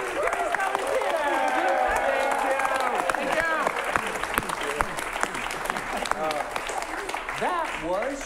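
A theater audience at an improv comedy show bursts into dense, sustained applause that fills the room, with cheering and voices mixed in throughout.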